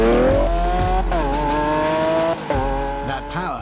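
A Lamborghini's all-new V12 engine revs loud and close, its pitch climbing and dropping through repeated surges as gears change, with a faint tire squeal.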